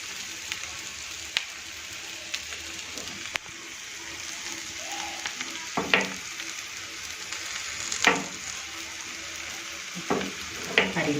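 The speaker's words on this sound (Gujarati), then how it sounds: "આ રીતે આપણે તેલને પણ આ રીતે આની પર ફેરવતા રહીશું જેથી કરીને માલપુઆ આપણા સારી રીતે નીચેથી શેકાઈ જાય." Malpua sweet pancakes frying in oil over a medium flame, a steady close sizzle with occasional sharp taps and scrapes of a spatula, no talking.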